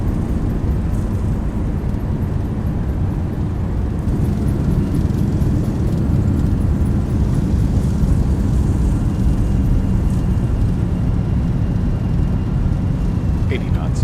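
Thrust reversers roaring on a simulated Boeing 737-800 landing at Dublin in X-Plane 11, a loud, steady, low-heavy rumble that holds unbroken throughout.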